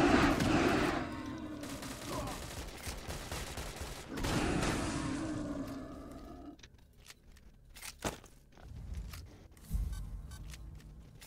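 Gunfire crackles in the Stalcraft video game as players shoot at each other, with bursts of rapid shots at first, then scattered sharp single reports trailing off in the second half, moderately loud, with no talking.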